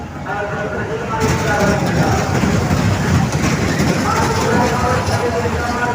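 A fairground train ride at the Netaji Mela in Karimganj rumbles along with a steady low rolling clatter, loud and continuous, as someone talks over it.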